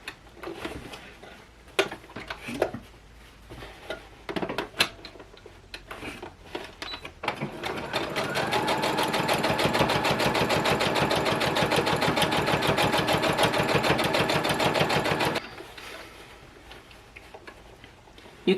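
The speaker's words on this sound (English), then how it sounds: "Increase my sewing machine speed back up." A sewing machine stitches fabric face masks in a fast, even rattle of stitches for several seconds, with scattered clicks and handling noises before and after.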